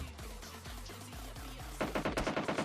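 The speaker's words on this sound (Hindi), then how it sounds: "तो भाई नहर पार से फायर होया भाई हमारे पर" Gunfire sounds from across a canal in PUBG Lite, first as spaced, fairly distant shots, then as a louder, rapid volley near the end.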